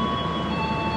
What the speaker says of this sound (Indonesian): menggunakan lokomotif yang nampak dari sini adalah CC203